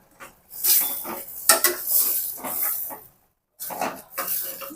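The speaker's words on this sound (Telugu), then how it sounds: "మసాలా పేస్ట్ వేసిన తర్వాత చక్కగా ఇలా వంకాయలో వేసేసి బాగా కలుపుకోవాలి" Masala paste being stirred into a pot of stuffed brinjal curry, giving irregular scraping and clattering of a spoon against the pot with faint sizzling, fairly close, and no talking.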